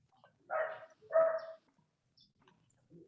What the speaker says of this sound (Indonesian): Itu ada suara guguk siapa tuh masuk.